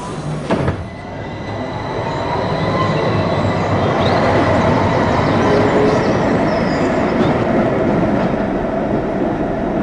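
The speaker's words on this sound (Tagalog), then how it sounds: "Ang mga pasaherong naiiwan ay maaaring sumakay sa susunod na tren." A passenger train rolls loudly along the rails in a dense, steady roar, with faint squealing wheel tones and a sharp clank near the start. No voices are heard.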